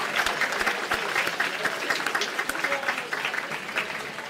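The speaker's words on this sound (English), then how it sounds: "let's give the cafeteria staff a round of applause" A room of high school graduates and guests at a class celebration breakfast claps for the cafeteria staff, loud dense applause with sharp individual claps throughout that thins slightly toward the end.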